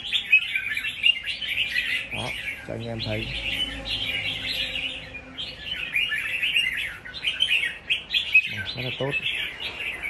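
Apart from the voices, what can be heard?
red-whiskered bulbul (chào mào) singing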